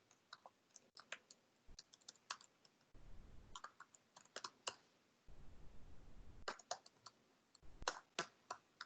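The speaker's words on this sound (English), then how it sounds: "I'm going to type in my volunteer connections password." A password being typed on a computer keyboard, with quiet irregular clicks and short bursts of keystrokes, close and fairly soft, with no talk.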